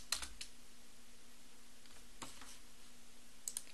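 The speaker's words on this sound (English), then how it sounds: "now all we have to do is type in Pac-Man for console" A computer keyboard typing a command into a Linux console: a few quick clusters of soft key clicks with quiet gaps between them, close and faint.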